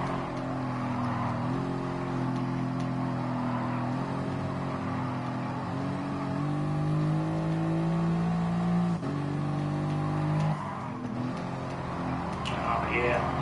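A Mercedes race car in the GT Sport racing game, its engine droning and revving steadily with shifting pitch through gear changes, continuous and prominent, with a voice commentating over it.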